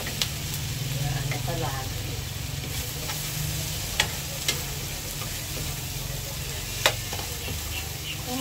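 Tofu sisig is stirred as it fries in a pan, giving a continuous close sizzle with occasional sharp scrapes and clicks of the utensil, while a person speaks briefly over it.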